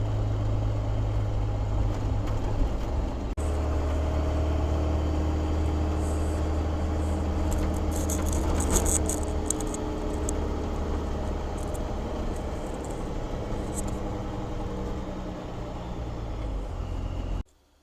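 Warmed-up Cummins diesel engine fitted in a Chevy truck, idling steadily with a low, even rumble that runs unbroken and close before cutting off abruptly at the end.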